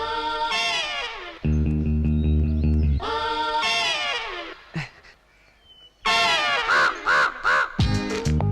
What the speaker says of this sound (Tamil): ஏய் திருட்டு காக்கா, இங்கே கொஞ்சம் சாப்பிட்டு போறது